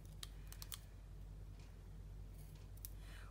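Scissors snipping a foam dimensional adhesive in half, heard as a few faint, sharp clicks in a quick cluster, then a couple more soft snips later, close and quiet.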